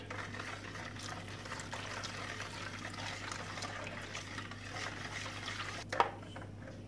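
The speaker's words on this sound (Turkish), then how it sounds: "Şöyle bir karıştırıyorum ılık sütüm var." Oil and warm milk get stirred together in a bowl for soft vegetable poğaça dough, a quiet, close liquid swishing and sloshing with a faint low hum, ending in a single brief clink.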